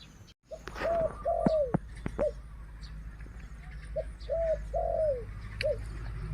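A female spotted dove coos in short repeated phrases, fairly close, with soft chirps and faint background noise between the calls.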